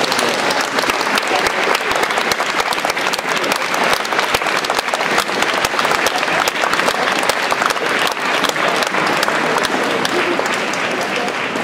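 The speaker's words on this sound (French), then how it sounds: "Vous pouvez tous les applaudir parce que c'est eux" Dense, loud audience applause at a festival awards ceremony, continuous clapping from a large crowd that stays strong and even throughout with no talk over it.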